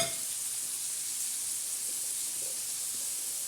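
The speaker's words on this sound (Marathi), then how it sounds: "ते छान असा तडका बसलेला आहे कांद्याला" Onions sizzle steadily in hot tempering oil for a spicy dal-and-onion dish, a continuous bright, even hiss close up with faint stirring touches and no talking.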